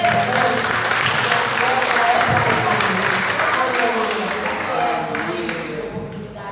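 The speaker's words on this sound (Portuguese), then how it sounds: "Você pode aplaudir o Senhor." A church congregation at a worship service applauds in a dense, sustained wash of clapping that holds steady for several seconds and then fades out, with a voice audible beneath it.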